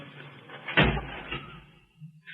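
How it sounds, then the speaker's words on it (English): A door shuts with a single solid thud in a 1950s radio crime drama, followed by a soft rattle and faint click as it is locked, with quiet room tone. "Lock the door, Gail."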